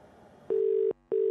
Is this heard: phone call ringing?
yes